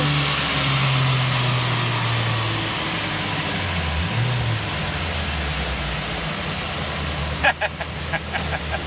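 Car engine on a dyno power run, droning steadily at high load for most of the stretch before easing off, with a few sharp clanks near the end; continuous and close.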